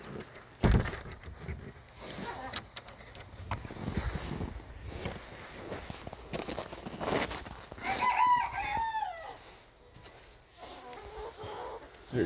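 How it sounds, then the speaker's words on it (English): A pet rooster crows from a nearby cage, a short rising-and-falling call in the middle of the clip, heard over rustling and background noise. "That was Chubbs crowing"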